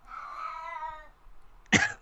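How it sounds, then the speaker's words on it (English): A very loud cat gives one long, drawn-out meow lasting about a second, close and harmonic, followed after a short pause by a sharp, harsh, coughing burst. "he's the loudest cat on earth"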